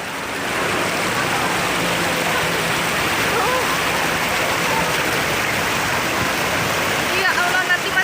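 Flood water in Lhoksukon, North Aceh, rushing like a river with a steady loud roar and splashing, continuous throughout, with a voice briefly present near the end.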